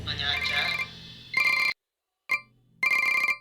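A telephone rings in bursts of electronic trilling, starting after some talk and then repeating in evenly spaced rings separated by silence.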